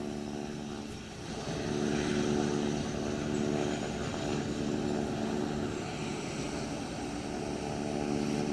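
A propeller aircraft at the launch of the PM Shri Paryatan Vayu Seva air service in Bhopal begins its takeoff run on the runway, giving a steady droning engine hum that swells slightly and holds over rushing noise.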